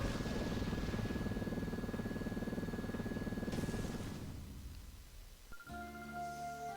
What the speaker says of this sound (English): No, he's trying to escape with that helicopter.